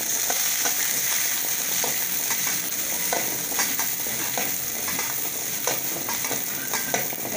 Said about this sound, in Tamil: சிறிதளவு சின்ன வெங்காயம், சிறிதளவு எண்ணெய் சேர்த்திக்கலாம் அந்த வெங்காயம் வணங்குறதுக்காக